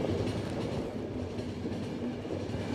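Train rolling along the tracks in The Final Station video game, a steady low rumble with faint rhythmic clatter running continuously at moderate loudness, no voices.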